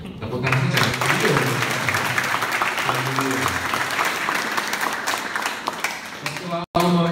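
Audience applauding a guest at a national gathering and Christmas celebration of blind Christians in Indonesia: steady, dense clapping held loud through the whole stretch, with voices and some music mixed underneath and a brief dropout near the end.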